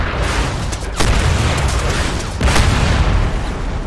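In the video game Crysis, a tank is hit by two heavy, booming blasts about a second and a half apart, each followed by a rumbling roar under continuous noise.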